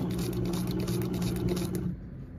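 A sewing machine stitches fabric with a steady, close whirring hum and a rapid needle rhythm that runs continuously, then stops near the end, leaving a quieter background.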